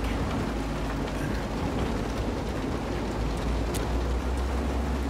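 Rain pours steadily in the video game Road 96, a dense, even wash of falling drops that stays constant throughout with no voices.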